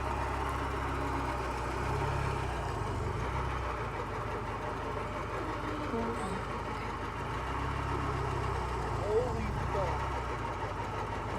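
An abandoned Porsche 944 engine runs after sitting for more than 25 years, holding a steady low idle with a slight knocking rumble under occasional nearby voices.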